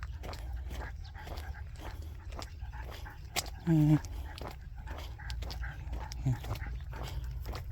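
A female puppy in a countryside setting gives a brief whimper in the middle, with a second faint yelp later, amid footsteps, movement and quiet background talk.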